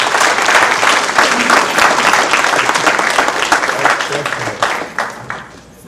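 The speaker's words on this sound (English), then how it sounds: "let's give the young ladies another round of applause" Loud applause from the crowd at a parish basketball banquet, dense and steady before thinning into scattered claps at the end, with voices mixed in.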